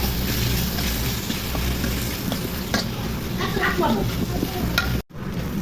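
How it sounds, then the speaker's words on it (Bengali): Ginger-garlic paste frying in a pan of oil for egg curry, a close continuous crackling sizzle with stirring scrapes, briefly cut near the end, no talk. "আদা রসুন বাটা দিয়ে ভেজে নিব।"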